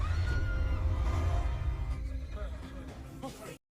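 A horse neighs loudly in a stable in a horror film scene, a long shaky whinny with strong low rumble that tapers off before the sound cuts out abruptly.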